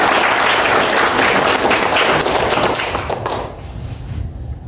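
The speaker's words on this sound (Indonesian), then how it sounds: "Kita kasih tepuk tangan untuk mereka." Loud, dense applause from the audience at a university orientation event for prospective students in Kepanjen, steady for about three seconds before thinning and fading toward the end.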